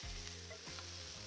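Cabbage fries for beef chow mein on a Blackstone griddle, a constant close hiss and crackle with a low humming drone underneath and a brief scrape, no one speaking.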